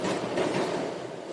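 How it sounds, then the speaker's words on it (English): A train passes by in a brief, moderately faint burst of rolling rumble and rail noise, steady throughout with no voices. "Let's watch this train go by."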